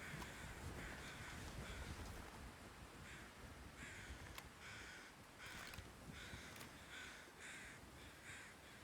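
Crows caw repeatedly in The Great Bear Catalogue game, a steady series of harsh calls at moderate distance over a constant wash of wind-like noise.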